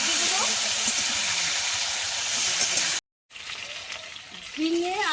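Ridge gourd, potato and drumstick pieces frying lightly in oil make a loud, steady sizzle. The sound cuts out briefly partway through, then resumes with some faint background noise.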